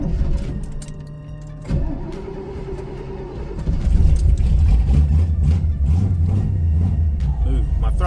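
A 1977 Avanti with a small-block Chevy V8 is cranked and fires up nearby, its starter whirring before a deep rumbling idle builds and settles, steady and loud, with a person talking over it.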